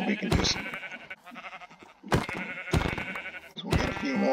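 Sheep bleating in the Minecraft video game, several short game-animal bleats popping up between bursts of player talk over background game sound.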